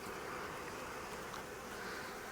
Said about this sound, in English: we have a bee